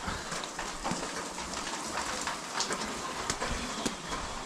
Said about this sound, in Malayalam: ചെറിയൊരു മഴ പൊടിയുന്നുണ്ട്.